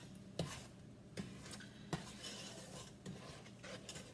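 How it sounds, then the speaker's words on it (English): A spoon stirs a peanut butter fudge mixture in a pot on the stove, giving quiet, regular scrapes and light clinks against the metal roughly every second over a soft background hiss. "So you're going to stir this constantly until it comes to a rolling boil."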